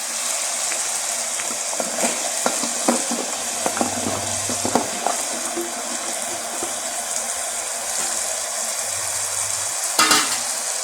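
Vegetables are tossed into softened, frying tomatoes for a mixed vegetable curry. A close sizzle runs throughout with a burst of clattering spoon stirs, then a louder splash and stir near the end.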